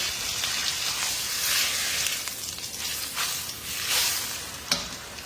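Pot roast browning in a hot pan for a crock pot dinner, with a steady close sizzle and crackle plus scattered sharper pops of splattering fat, with no talk.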